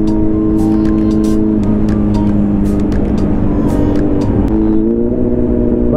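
A Kawasaki Z900 BS6 motorcycle with a full-system aftermarket exhaust drones loudly while being ridden, its engine pitch rising and settling between gear changes.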